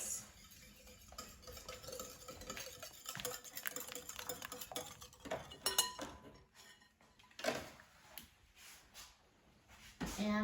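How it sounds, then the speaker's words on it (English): Muffin batter gets stirred in a bowl with a utensil: faint, irregular scraping and clinking strokes at close range, quiet throughout, with occasional louder taps against the bowl. "And mix."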